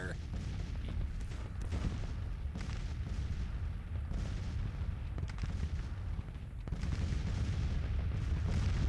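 Game-battle artillery thunders in continuous heavy booms and rumbling volleys throughout a large tactical Civil War engagement, with Union forces firing, loud and dense with sharper reports around the middle and late stretches.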